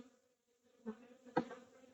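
Honey bees buzz around an opened hive during an early-season inspection, a low steady drone with a couple of louder, closer passes near the end.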